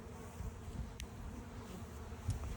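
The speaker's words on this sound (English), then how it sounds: "we've maybe got 10, 15 bees out of the package" Honeybees from a package buzzing steadily at close range, a continuous low drone with no talk, heard while a new package is being installed into a hive with foundation.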